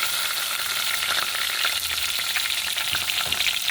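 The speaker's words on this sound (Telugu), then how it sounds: "పుదీనా ఫ్రై అయితే సరిపోతుంది." Mint leaves frying in about two spoons of ghee, a dense steady sizzle with light stirring, close and uninterrupted, no talk.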